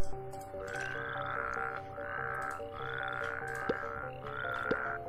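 Toads croaking in a video game, a series of five repeated raspy croaks in a steady rhythm over a quiet droning background, with no talk.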